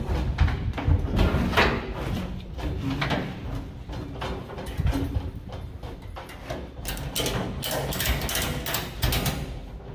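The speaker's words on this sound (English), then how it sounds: "And then you want to ratchet it tight." An E-track strap being ratcheted tight against a wall, giving a steady run of rapid mechanical clicks and clacks, close and fairly loud, with brief pauses between pulls of the handle.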